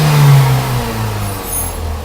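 A car engine revs after a misfire repair, opening with a loud surge that settles into a smoother, steady hum.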